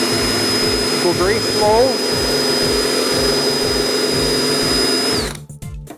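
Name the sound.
power buffer polishing with Flitz polish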